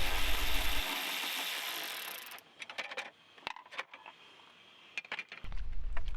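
Ratcheting clicks and short metallic rattles come from pulling 7mm bolts out of the dash trim of a Ford F150, following a loud blast of broadband noise, close and quiet overall without speech.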